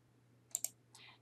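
Two quick computer mouse clicks close together, faint and crisp against a low steady hum, followed by a softer brief rustle.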